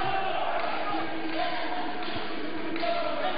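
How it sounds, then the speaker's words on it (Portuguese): Guarani fans chant and sing together inside the Clube Escola Lapa gym in São Paulo during a showbol match. The sustained crowd singing comes from a distance, under a commentator's voice. "E cantando, só se ouve o torcedor do Guarani nesse momento."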